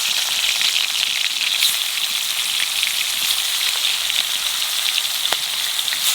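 Magur catfish fries in a little oil, a bright close sizzle with scattered spitting pops that runs steadily throughout, with no talk.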